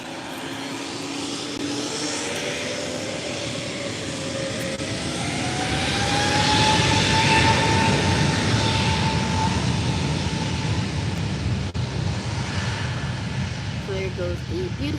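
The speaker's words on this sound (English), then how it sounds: "goes the beautiful Wizz Air A321neo to London Gatwick" A Wizz Air A321neo jet departs Málaga airport as a steady, distant engine roar that swells and holds at moderate loudness, with a faint whining tone running through it.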